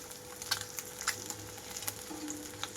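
Eggs fry in a pan over low to medium flame, a soft continuous sizzle with scattered small pops and crackles, fairly close and alone.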